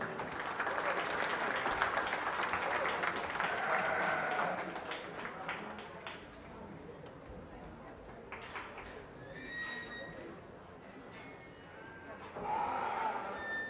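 Audience applause at a junior fair sheep show, a lively burst of clapping in a large hall that tapers into scattered claps, with animal calls and brief voices after it.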